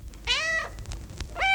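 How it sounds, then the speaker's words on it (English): A pet cat in a radio play meows twice, a long falling mew and then a shorter one starting, close and clear over a faint low hum with no talk. "you are the cleverest, most beautiful cat in all the world"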